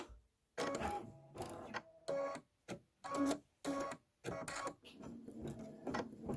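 An embroidery machine stitches a Kimberbell Main Street Celebration farmhouse design in a hoop, running in short mechanical bursts separated by brief pauses, close and fairly loud.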